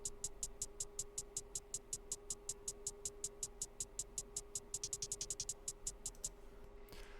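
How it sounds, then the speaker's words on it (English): Quiet MC Devil hi-hat pattern in a hip-hop beat ticks in a steady rapid rhythm with a few faster rolls near the end, crisp, faint and alone over a low hum. "but it's just the MC Devil hi-hat number 2."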